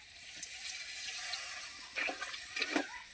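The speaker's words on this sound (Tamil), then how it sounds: "கொஞ்சமாக தண்ணி விட்டுக்கலாம் வேகிறதுக்காக" A little water is poured into a pan of spicy crab masala as it cooks, giving a soft trickle and splash over a faint background hiss, with no talk.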